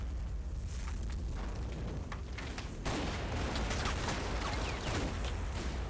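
Accurate British gunfire in a WW2 combat simulation game set in Normandy: dense, continuous rattling volleys and bursts over a heavy rumbling bed, growing louder partway through.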